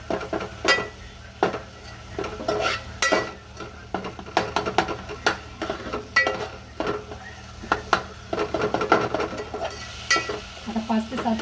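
A spoon stirs a tomato masala mixture in a pan for masale bhat, making quick, uneven scraping strokes against the metal over a soft frying sizzle, close and clear, with no talking.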